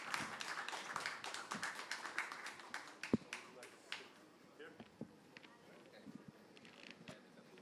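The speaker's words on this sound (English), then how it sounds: "Please give a round of applause to all of our distinguished speakers for today." An audience at a conference session on international commitments and NDC implementation gives a brief burst of applause for the speakers, then scattered claps fade under a speaker's voice.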